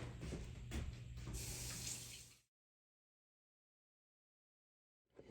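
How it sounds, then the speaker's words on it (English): Tap water runs steadily into a sink for about two seconds as a green pepper is rinsed, then stops abruptly and leaves silence, with a faint knock near the end. "Now, we've got our green pepper. I'm going to rinse it off."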